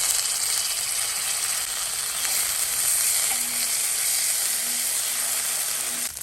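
Ginger garlic paste fries with browned onions in a pan for masala egg fry, a loud, steady sizzle with a few light stirring clicks.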